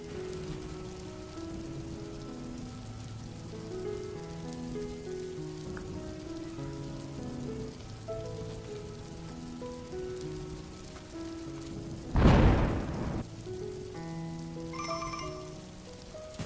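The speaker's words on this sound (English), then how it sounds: "the rain began to fall harder, splashing coolly against her face" Steady rain patters on surfaces throughout, with soft tonal music underneath and one brief, louder rushing burst near the end.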